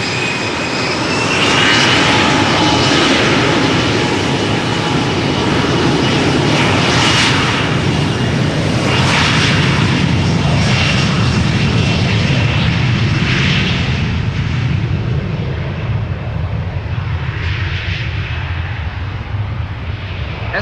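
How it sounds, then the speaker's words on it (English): A 15-year-old SAS CRJ regional jet airliner takes off at Amsterdam Schiphol, a loud, close engine roar that builds and sustains for about twenty seconds before slowly fading as the plane climbs away. "SAS on its way to Copenhagen, flight 552. 15-year-old CRJ long range."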